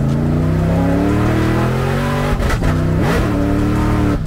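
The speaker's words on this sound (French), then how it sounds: "Jordan Lapelosa et son BMW E30 Touring." A BMW E30 Touring race car drives hard at a motorsport event at Croix-en-Ternois, its engine loud and close with a sustained rasping drone that rises in pitch and then dips through quick gear changes.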